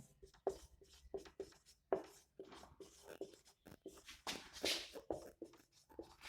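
Chalk or marker scratches out a heading on a classroom board in quick, uneven strokes with short taps between them, close and fairly quiet.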